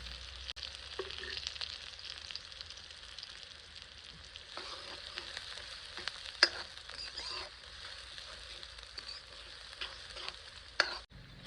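Cumin seeds, onion and green chillies fry in oil in a flat pan with a steady, dense sizzle and crackle, broken by occasional clicks and scrapes of stirring. The sound is close and continuous, with no voice.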